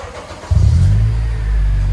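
A 2006 Acura TSX with a Vibrant Performance universal muffler and 4-inch tip starts up close by, the exhaust swelling into a loud, deep, steady rumble after a quiet moment.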